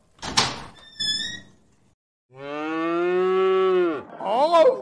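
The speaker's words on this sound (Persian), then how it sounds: "آقا، گاویه." A cow gives one long, loud, sustained moo near the microphone, preceded by a few knocks and creaks like a door being opened, and followed by a shorter rising bellow.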